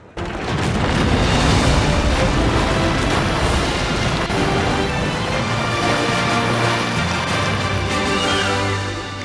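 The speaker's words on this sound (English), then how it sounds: "Eventually, Bruce's ship explodes and sinks" A ship explodes and sinks in Party Animals, heard as a loud, sustained rumbling roar of blasts and crashing debris that fills the whole stretch without a break.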